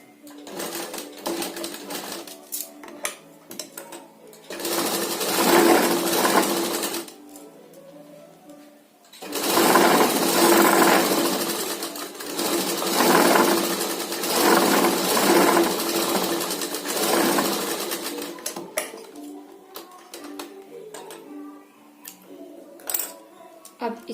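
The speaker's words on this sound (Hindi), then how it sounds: "डोरी भी हम इस तरह से सिलाई करनी है" A sewing machine stitches a cord for a handmade tassel in long whirring runs with pauses between them, running close and steady, with someone speaking now and then.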